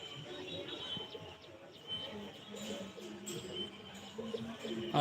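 Four pigeons sit together and coo in low, repeated throaty calls, faint and somewhat distant, with light chirps and a soft voice now and then beneath them.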